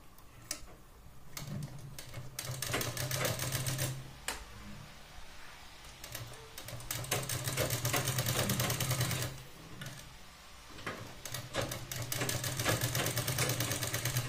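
A sewing machine runs in short and longer bursts of rapid ticking stitches while a prinskat blouse is sewn, pausing briefly between runs at a fairly quiet, close level.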